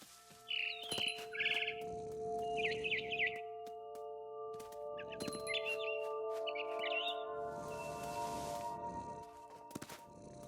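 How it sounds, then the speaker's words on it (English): Small bird chirps come in short bursts over a quiet musical background in the video game What Remains of Edith Finch, with soft thuds and shuffling steps between them. "Then I heard chirping outside my window."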